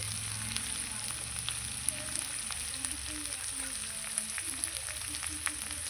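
Ginger and garlic frying in hot oil for a spicy red mutton curry, a dense crackling sizzle with scattered pops running continuously, close and moderately loud.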